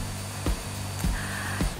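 An LG VC73201UHAP vacuum cleaner fitted with a 2-in-1 dust and upholstery brush runs with a steady, droning motor hum, broken by three soft thumps as the brush moves over a sofa.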